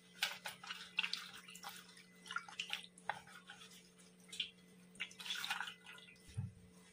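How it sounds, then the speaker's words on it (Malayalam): Turmeric-stained cloth being washed by hand under running water, with irregular splashing, dripping and sloshing bursts close by, alone without talk. "ആദ്യം നമുക്ക് ഇതൊന്ന് കഴുകാം."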